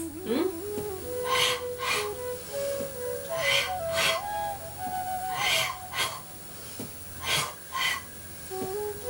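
Forceful, breathy exhalations during a pilates exercise, with repeated short bursts of blown air in pairs, interleaved with a woman's spoken instructions over quiet background music.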